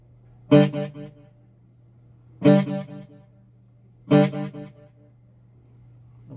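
Electric guitar played through a Joyo D-Seed dual digital delay pedal in modulation mode with feedback around five, giving a shimmering sound: three separate struck chords, each ringing with repeating echoes over a steady low hum.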